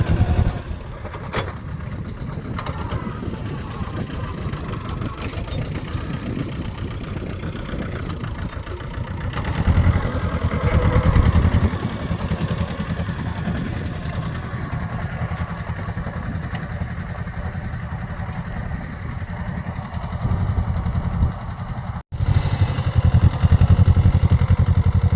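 A tractor engine runs steadily in a village field during bund building, a low, rumbling drone with some clatter that surges briefly near the end.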